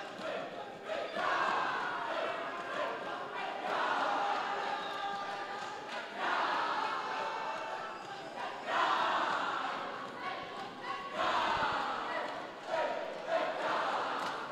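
Prince Edward School supporters roar and cheer throughout a high-school basketball game against Harare International School, a dense, sustained crowd noise with rising swells of shouting and chanting.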